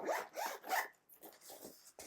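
A navy blue journal bag is zipped shut in a few quick, close rasping pulls, followed by softer, lighter zipper strokes, with no one talking.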